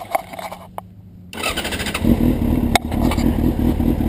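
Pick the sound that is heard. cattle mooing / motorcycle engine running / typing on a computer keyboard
motorcycle engine running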